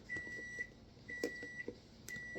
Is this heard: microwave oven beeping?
yes